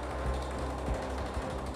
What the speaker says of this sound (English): A special device consisting of multiple hammers strikes the hard, resistant ground.